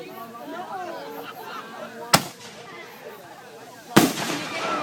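Fireworks going off outdoors: two sharp, loud bangs spaced a couple of seconds apart, each with a short crackling tail, over steady chatter from nearby people.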